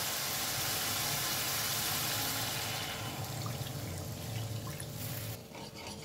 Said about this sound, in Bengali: এখন আমি এর মধ্যে দিয়ে দেব পরিমাণ মতো জল।